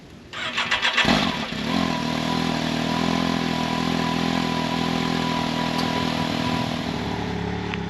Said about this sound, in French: Toujours le démarrer avant d'enlever les straps. Comme ça on laisse chauffer.